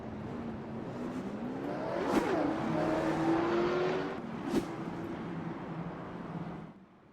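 Late model stock cars race around an oval track in a steady, droning engine roar with rising and falling pitch as cars pass, plus a couple of sharp transient bangs midway; no talk.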